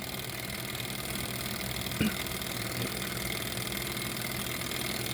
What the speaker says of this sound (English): This is a hot air Stirling engine.